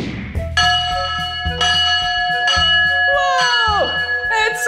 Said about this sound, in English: That was a really loud bell from this big steam train